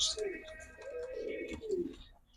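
Pigeons of a highflyer breed cooing close by, several soft throaty coos in a rolling sequence, with a faint chirp and some low background noise.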